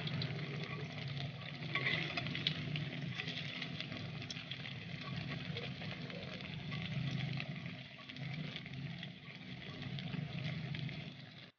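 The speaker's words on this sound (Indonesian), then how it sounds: "Lanjut goreng sisa adonan sampai selesai." Snack dough frying in hot oil, a continuous close sizzle and crackle that holds steady for over ten seconds with slight swells and no speech.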